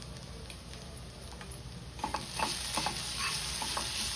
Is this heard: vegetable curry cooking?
yes